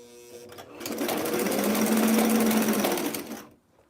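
A sewing machine back stitches the seam of a T-shirt in one loud, close burst of rapid needle clatter lasting about three seconds, then stops abruptly.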